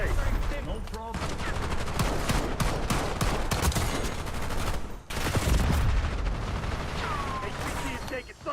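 Dense, continuous gunfire from a military shooter video game rattles on for several seconds with brief breaks, game voices talking over it.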